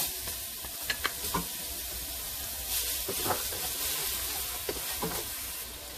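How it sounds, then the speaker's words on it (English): Onions tossed into a dark roux for a New Orleans-style seafood and sausage gumbo sizzle steadily at close range, with a few soft clicks from stirring. "the first thing we're going to toss in there is our onions"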